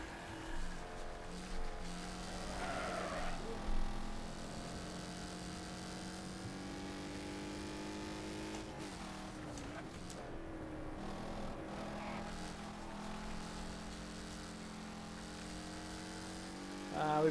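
Race cars lap a track in the Wreckfest video game, with a sustained engine drone whose pitch climbs and falls through gear changes, at a moderate level and fairly steady throughout.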